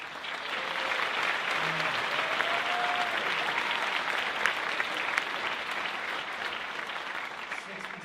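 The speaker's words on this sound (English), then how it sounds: "another round of applause" Sustained applause from the audience at a Union High School graduation ceremony, a dense, steady roar of many hands clapping that holds at an even level for about eight seconds.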